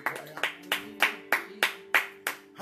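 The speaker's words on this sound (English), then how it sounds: "Let's give the Lord a hand clap." A church congregation claps in unison, about eight sharp, evenly spaced claps in a steady rhythm, loud and close, with a faint background hum.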